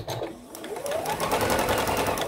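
A sewing machine stitches a quilt block, its steady rapid needle chatter running continuously and close up, with a brief pause as it pivots at a point before resuming.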